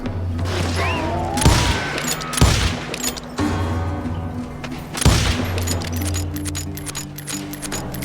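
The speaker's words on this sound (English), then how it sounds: "I heard the shots and I knew I had to move fast." Gunfire in the Wild West shooter Call of Juarez Gunslinger: several loud, sharp shot bursts a second or two apart, each ringing out over steady ambient game sound, with no voices.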